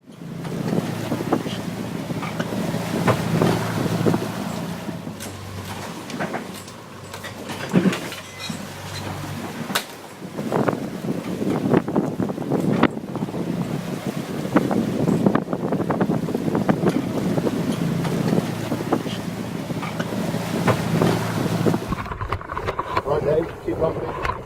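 Boat heading out across a busy, choppy bay in the Straits of Gibraltar, with engine and hull rumble, heavy wind buffeting the microphone and water slapping, steady and loud throughout.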